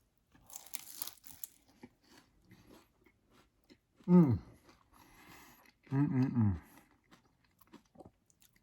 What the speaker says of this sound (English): Really crispy, crunchy, flaky crust.